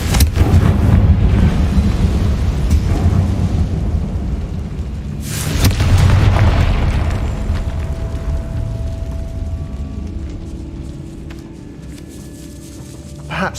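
A Confringo fire spell in the Hogwarts Legacy video game bursts with a deep booming rumble, followed by a second blast that fades into a lingering low roar.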